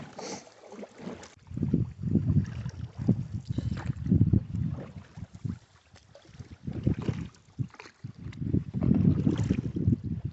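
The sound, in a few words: canoe ferry crossing a river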